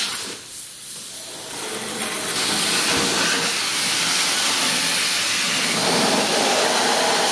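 A pressure washer sprays hard on a dirty MTD Yard Machines 5 hp leaf blower at a car wash, a steady loud hiss that swells after a quieter start and holds to the end with no talking.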